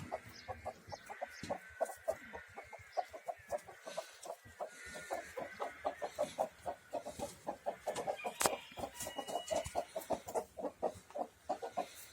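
Hens cluck steadily on a farm, with several birds producing dense, rhythmic clucking that carries through the whole stretch, fairly close, with no talk.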